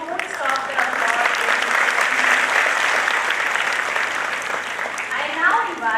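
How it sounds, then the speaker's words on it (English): Sustained audience applause at an orientation programme ceremony, loud steady clapping from a full hall lasting throughout. "Please don't stop the applause."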